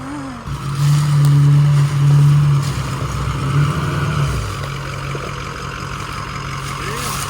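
Camping truck crawling over rough, rocky terrain, its engine droning loud and close with strained revving and rumbling bumps, voices talking over it.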